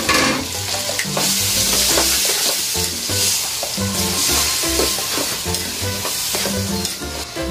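A mixture of eggplant and fish bagoong fries loudly in a pan for an Ilocano dish, a dense constant sizzle broken by repeated scraping and clanking stirs of a utensil against the metal.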